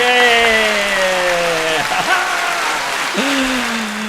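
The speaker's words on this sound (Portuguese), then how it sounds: "Coloca salva de palmas ali, ó." Applause sound effect edited into a business podcast: a steady rush of clapping under a speaking voice.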